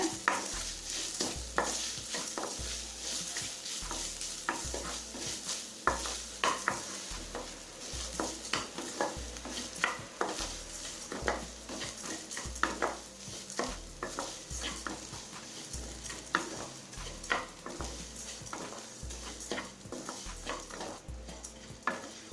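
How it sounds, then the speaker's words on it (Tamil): Grated coconut is stirred and sautéed in a hot pan, a steady sizzle under repeated rhythmic scraping and soft thumps of a spatula, close and even throughout, with no one talking. "தேங்காய் துருவலை இந்த சூட்லேயே 1 நிமிஷம் வரைக்கும் வதக்கிக்கலாங்க"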